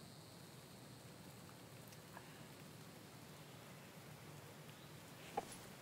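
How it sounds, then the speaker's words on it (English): Steady, gentle rain patters continuously in the background, with a faint drip or tap near the end. "It's raining."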